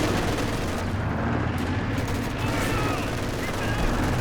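Machine gun fire in Company of Heroes 2, a World War II strategy game, heard as dense, continuous battle noise mixed with other gunfire and explosions throughout, with a voice talking over it.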